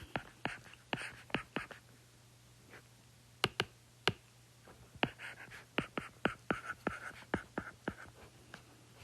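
A pen scratches numbers onto paper by hand in short, quiet bursts of strokes and taps, close by in a near-silent room, with no voices.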